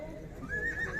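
A horse at a livestock market in Sokuluk whinnies with a rising, wavering call late in the moment, close and moderately loud over a low crowd murmur and background market bustle.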